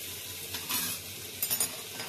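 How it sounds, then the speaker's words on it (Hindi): Amul butter and a little oil sizzle softly in a tempering pan as they melt, with a faint, steady frying hiss broken by small bursts of crackle. "पैन में मैं डालूंगी अमूल बटर, और बटर हमारा जले ना इसलिए मैं इसमें थोड़ा सा ऑयल भी ऐड कर दूंगी।"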